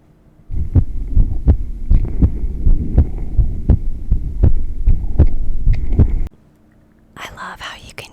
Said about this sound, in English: I love how you can hear his purring along with my heartbeat whenever we snuggle.